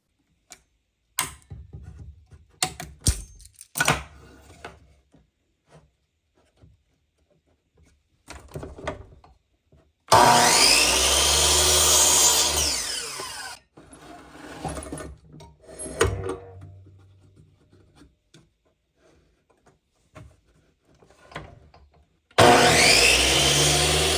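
A saw cuts pine frame pieces to length at 45 degrees in a workshop, with two loud sustained rasping bursts of cutting separated by quieter clicks, taps and handling of wood.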